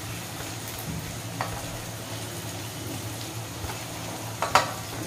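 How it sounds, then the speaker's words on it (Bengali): Chopped onion and garlic fry in a pan for a spicy rohu fish mash, giving a steady, moderately loud sizzle with a few faint clinks and stirring scrapes. No one speaks. "পেঁয়াজ কুচিটা দেয়া হলো এবার"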